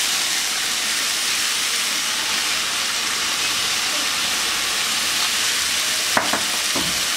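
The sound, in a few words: vegetables and chicken frying in a pan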